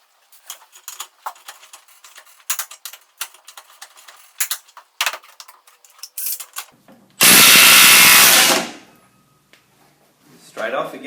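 A 1/2-inch cordless impact wrench, Makita DTW281Z or Milwaukee M18 FIWF, is set to 340 foot-pounds and run on a stubborn bolt, giving one loud sustained burst of about a second. Before it come scattered clicks and handling noises, and a fainter burst follows at the end.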